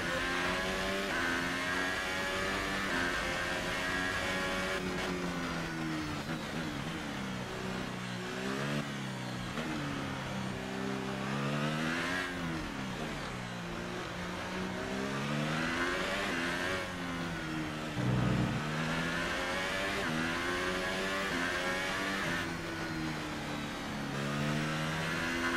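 A race car engine revs up and down through its gears ahead of the French Grand Prix, the pitch sweeping and climbing repeatedly, steady and unbroken for over twenty seconds with no talk.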